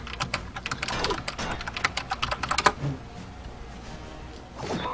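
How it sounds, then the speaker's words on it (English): Fast clattering keystrokes on a loud mechanical computer keyboard, a dense burst of sharp clicks for a few seconds, then a pause and a few more taps. "apologies, my keyboard is really loud."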